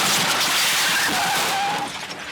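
A car driven at about 70 mph slams into a safe, heard as a loud sustained scraping, skidding roar with a thin tire-like squeal that fades slightly toward the end.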